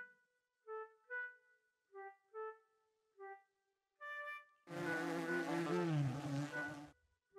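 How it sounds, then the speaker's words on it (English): Bees buzz in a string of short, separate buzzy bursts, then swell into one loud, sustained buzz lasting about two seconds before cutting off. "Ouch, the bees stung me everywhere."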